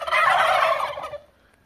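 Male turkeys in a farmyard give a loud, rapid rattling gobble lasting about a second, close by and with no talk over it.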